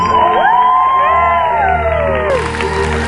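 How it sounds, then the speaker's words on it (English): An audience at a convention prize announcement cheers and claps, loud overlapping shouts and whoops with sweeping high voices over a dense crowd roar, clapping mixed underneath. "Big round of applause, please."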